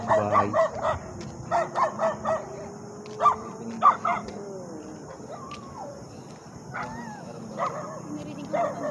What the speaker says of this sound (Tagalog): May aso dito, gagi.